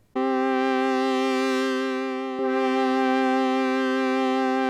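A steady, buzzy Oberheim analog synthesizer tone with a rich stack of harmonics holds loud and unbroken, with a brief click partway through as another key is pressed and the pitch shifts slightly.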